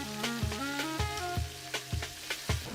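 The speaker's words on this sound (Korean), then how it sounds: "오돌뼈 같은 경우는 이제 굽는다라는 느낌보다 볶는다라는 느낌으로 구우셔야지 더 맛있어서" Pork cartilage frying over red-hot charcoal on a grill, a steady close sizzle with repeated clattering scrapes and stirring knocks at a quick, irregular rhythm.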